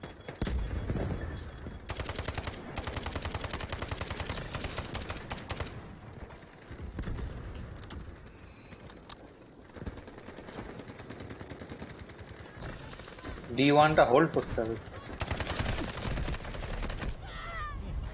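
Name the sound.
gunfire in a video game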